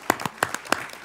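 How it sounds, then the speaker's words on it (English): A few people clap in a hearing room, a short run of sparse, distinct claps close by. "I think we should clap."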